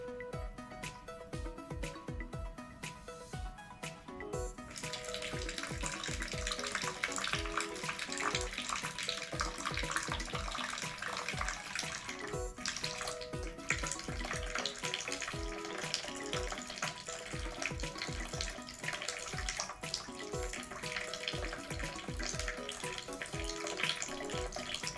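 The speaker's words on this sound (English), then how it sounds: "there's fucking water coming out your nose from one hole to the other" Water from a neti pot rinses through the nostrils and splashes down into a basin as a steady, close, hissing trickle that grows fuller after the first few seconds and then runs on without voices.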